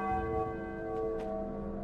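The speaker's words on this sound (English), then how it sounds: "but then I ring the bell" A single deep church bell tolls once inside a Spider-Man video game, its resonant ring sustaining and slowly fading on its own.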